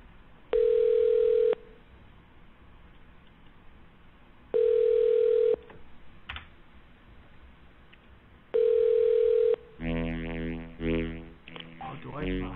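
A telephone line plays call-transfer tones while on hold: three evenly spaced long beeps, each about a second, with hiss between, followed by a burst of garbled audio.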